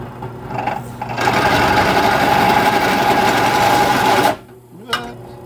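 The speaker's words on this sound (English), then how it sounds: "drilling out the bore on this Kickstarter" A drill press whirs steadily as it bores out a vintage Italjet Kit Kat moped's kickstarter, a loud continuous mechanical drone that cuts off abruptly, followed by a brief clank.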